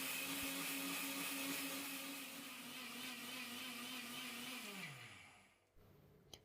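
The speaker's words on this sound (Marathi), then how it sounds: "लगेचच हे दोनही साहित्य मिक्सरला एकदम बारीक पावडर स्वरूपात दळून" A kitchen mixer grinder whirs steadily at high speed while it grinds two ingredients into a fine powder for medu vada batter. Near the end the motor winds down and stops, leaving a quiet room.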